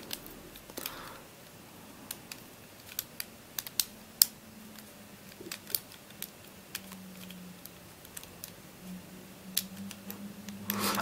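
Light clicks and ticks from a Mag Nif Scrambled Egg take-apart puzzle from 1982 being handled, scattered sharp taps spread irregularly over a quiet background with no talking.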